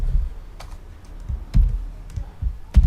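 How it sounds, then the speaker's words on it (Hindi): Typing on a computer keyboard while entering Python code, a few soft scattered keystrokes with a couple of louder sharper key presses, close and alone. "मैं एंटर प्रेस करता हूँ"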